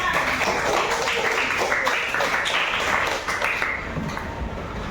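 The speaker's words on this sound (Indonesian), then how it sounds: "Tepuk tangan untuk kelas 5." A class of elementary school children clapping in a classroom, brisk fairly close hand claps from a modest group that continue for several seconds before easing off.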